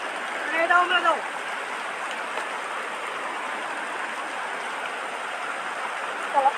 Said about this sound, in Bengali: আমাদের এলাকার প্রচুর বৃষ্টি নামতেছে